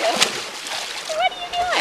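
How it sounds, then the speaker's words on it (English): A horse splashes in a river on a spring day, with repeated wet sloshing bursts at close range while a person talks over it. "And Zorro, the splash fest"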